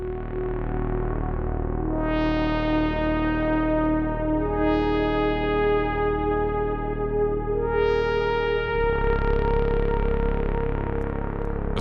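Sustained synthesizer chords shift three times, washed in echoing reverb and delay with a warm, slightly saturated tape-like tone; loud, with no voices.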